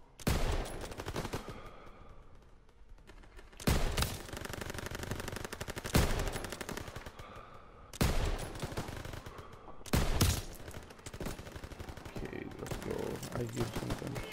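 Machine gun fire in a World War II video game, several long bursts of rapid automatic shots several seconds apart, loud and continuous, with battle noise between them.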